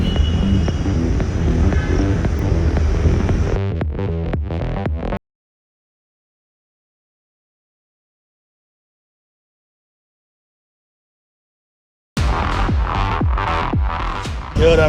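A DJI camera drone takes off and flies toward a bridge at about 60 meters, its loud, steady whirring buzz filling the opening seconds before dropping to total silence, then returning just as strongly near the end.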